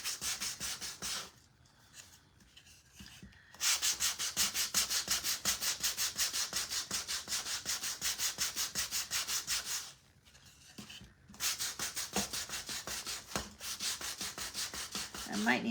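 Sandpaper rubbed by hand over a wooden scarecrow craft piece, a steady close rasping scrape in long sustained passes, broken by two short pauses near the start and middle.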